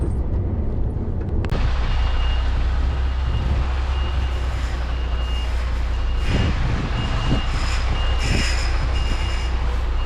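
A lorry turning round on the road sounds its reversing alarm, a run of evenly spaced electronic beeps over a loud, steady diesel rumble, with no voices.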